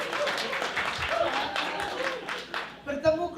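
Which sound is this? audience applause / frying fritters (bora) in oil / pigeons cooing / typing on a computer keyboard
audience applause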